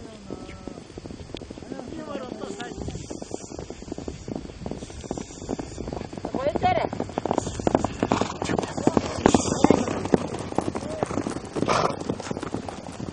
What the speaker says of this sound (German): Uzi veranstaltete für uns auch ein kleines Pferderennen.